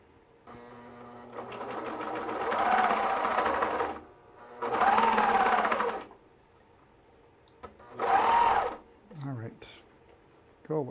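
Bruxel Sienna 4-thread overlocker serger stitching through a thick seam in three loud, fast whirring bursts separated by pauses, with small clicks and handling sounds between runs.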